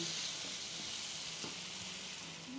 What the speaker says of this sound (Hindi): जब तक हमारी सब्जी भून रही है ना